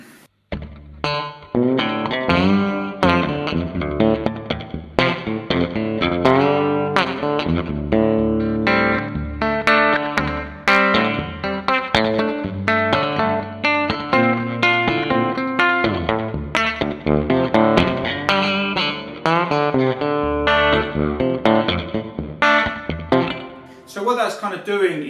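An electric guitar played through a slapback delay pedal with soft clipping, in the style of Ry Cooder, plucks a busy run of notes, each doubled by a quick echo that softens the attack, loud and continuous.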